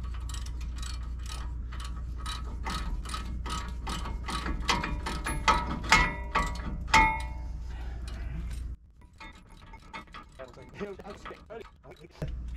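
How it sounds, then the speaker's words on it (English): A hand ratchet clicks in rapid, steady bursts while brake bolts on a Ford F-150 front brake job are cranked down tight, loud and close, then gives way to quieter clattering of tools and parts. "he just tightens everything down about as tight as it'll go"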